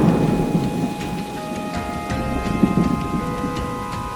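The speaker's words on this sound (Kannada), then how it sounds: "ಮಳೆಯ ಶಬ್ದ ಮಾತ್ರ ಜಿಟಿ ಜಿಟಿ ಹಾಗೆ ಇತ್ತು." Steady rain pours down on a rainy night while a low thunder rumble rolls underneath, continuous and fairly loud with no voices.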